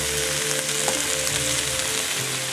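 Lesbos basil and Vigna pods stir-frying in a hot pan with a steady, close sizzle and faint scrapes of stirring, no voices.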